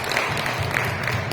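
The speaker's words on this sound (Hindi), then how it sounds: "प्रभु को धन्यवाद दे सकते हैं ताली बजाकर" A church congregation claps together in thanks, a brief burst of dense, steady applause from a crowd indoors.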